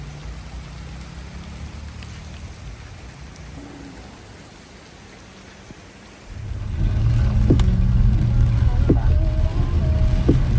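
Steady typhoon rain falls, a continuous hiss that grows heavier and closer after about six seconds, with faint tones and a voice now and then beneath it.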